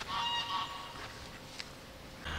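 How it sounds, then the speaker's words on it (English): Geese on a university campus lake give a few faint, distant honks over quiet outdoor ambience, with brief calls scattered across the stretch. "Most famous are probably the birds, the geese, the ducks, the swans"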